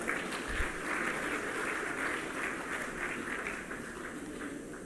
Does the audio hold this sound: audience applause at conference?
yes